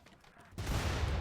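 A burst of gunfire in the RimWorld colony game starts abruptly partway through, a dense, rumbling fusillade of overlapping shots that keeps going to the end after a quiet start.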